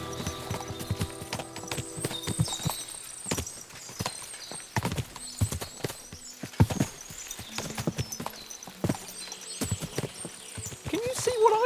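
Horses' hooves clip-clop on the ground in the video game Kingdom Come Deliverance II, many irregular clattering steps from a group, with a neigh, while voices talk over them.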